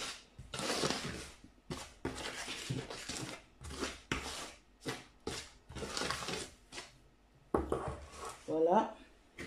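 Bread dough is mixed in a bowl, with rhythmic bursts of scraping and slapping, close and fairly loud, repeating in short strokes with brief pauses between.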